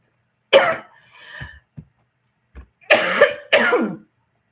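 A cough rings out nearby, followed by faint throat sounds and then two more forceful coughs in quick succession.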